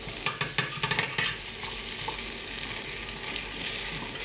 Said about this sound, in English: Now we'll give it a little stir. We want to brown the shallots in the bacon fat.